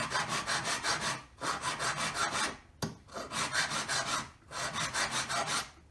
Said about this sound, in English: until I've got the whole surface evenly filed